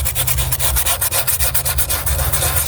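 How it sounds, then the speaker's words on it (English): Hand sanding along the edges of a wooden car audio door panel, a steady rhythmic scratchy rubbing with quick back-and-forth strokes, close and loud with no voices. "I got a little bit of sanding to do"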